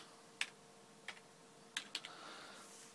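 Keys on a computer keyboard are tapped sparsely while a command is typed: four or five faint, separate clicks spread over a few seconds over a low hum.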